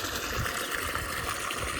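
Water gushes in a steady, loud rush from a farm motor pump's outlet in a village field, a continuous broadband splashing flow with no pauses.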